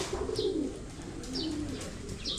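Pigeons of champion lines coo in a loft, three rolling low coos spaced about a second apart, close and fairly loud, each with a faint higher chirp alongside.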